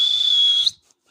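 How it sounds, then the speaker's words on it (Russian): A man whistles in his own personal style: one very high, piercing, steady note held for under a second, close and loud, ending with a small upward flick and then silence. "я умею свистеть по-своему."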